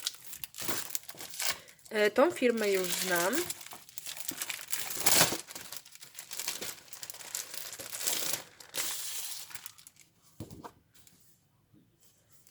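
Decorative papers from Florese crinkling and rustling as they are unpacked from a parcel, intermittent close crackles in bursts, with someone talking between and over them.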